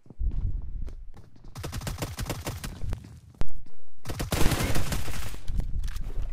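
Rapid gunfire bursts in PUBG Mobile, dense clattering volleys that start and stop with a short gap before a loud resumed burst, close and dominant with little talk over it.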